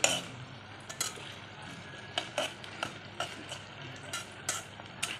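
Onions frying in a pan for a pangasius fish curry while a utensil stirs them, soft sizzle beneath repeated scraping and clinking strokes against the pan at an uneven rhythm.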